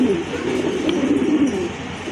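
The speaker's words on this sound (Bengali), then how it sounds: "আরেক জোড়া কবুতর, রাজগোল্লা কবুতর।" Rajgolla pigeons cooing in a steady, low, murmuring drone that carries on without a break, close by and moderately loud, with no talking over it.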